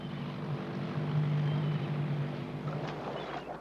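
An outboard motor on a fishing boat droning steadily with a low buzzing hum, fairly close and continuous, with water noise underneath.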